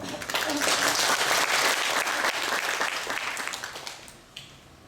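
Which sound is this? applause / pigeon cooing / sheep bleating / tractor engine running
applause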